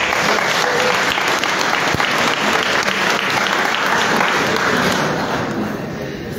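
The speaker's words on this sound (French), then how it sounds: "Applaudissez." An audience at a book presentation on homilies breaks into dense, loud applause that holds steady before easing slightly at the end.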